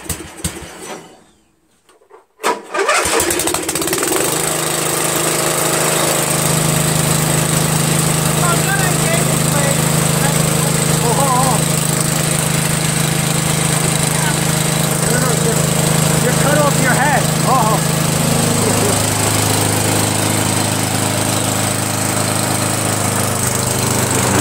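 A Briggs engine fitted to an MTD Cub Cadet lawn tractor starts after a short silence, then runs loud and steady with the PTO engaged, adding a constant mowing drone; voices are heard faintly.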